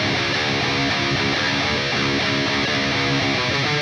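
Heavily distorted electric guitar chugs through the bridge riff of a song, rapid palm-muted picking with shifting power-chord notes, dense, loud and unaccompanied.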